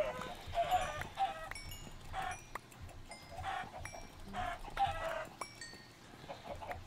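Several video-game chickens cluck and squawk in overlapping bursts, fairly quiet and steady, with no talking.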